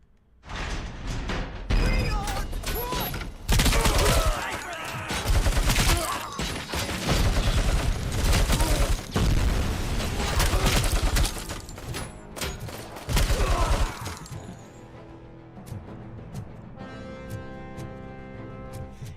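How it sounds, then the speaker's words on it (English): In RoboCop: Rogue City, loud bursts of automatic gunfire come in repeated volleys with short pauses, mixed with thuds and impacts, then fade into quieter, scattered clinks and hum. "I am really liking the shooting of this game so far"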